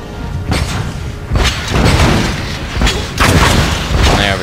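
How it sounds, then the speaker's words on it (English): Artillery in Empire: Total War firing shrapnel shot at Janissaries in a 2v2 battle: repeated heavy booms, roughly four or five, landing unevenly over rumbling battle noise. "I've made 2 of my artillery groups fire down this gap here between my 2 ranks, and they're attacking with shrapnel shot at these Janissaries"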